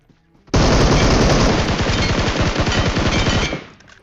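Loud, sustained automatic gunfire from an M416 rifle in a mobile battle-royale shooter game, a dense rapid burst of shots lasting about three seconds before cutting off and trailing away.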